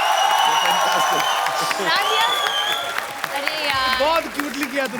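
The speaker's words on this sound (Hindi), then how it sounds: "जोरदार तालियां" Applause and cheering from a studio audience on a comedy show set, running under close, excited talk from performers with brief whoops throughout.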